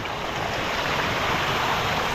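Strong irrigation water pours into a rice paddy, a steady broadband rush that fills the whole clip without pause and without any voices.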